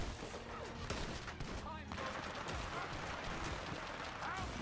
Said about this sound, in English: That's a goddamn Gatling gun right there